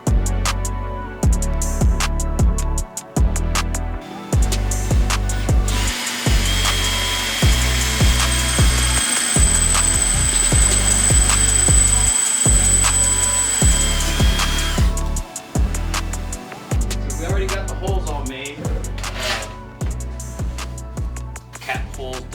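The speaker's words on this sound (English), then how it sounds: "I'm gonna start drilling some holes" A power drill bores holes in a custom metal fuel cell, with repeated bursts of loud, close motor whine starting and stopping throughout, mixed with clanks of handling and grinding of the bit.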